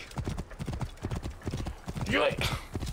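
Horse hooves clip-clopping in the Assassin's Creed Origins video game, a quick steady rhythm of close hoofbeats, followed by a horse's whinny, with a voice over the top.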